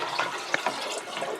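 Water poured at home while making a batch of home brew gives a continuous splashing trickle, fairly close and moderately loud, with a few brief louder splashes.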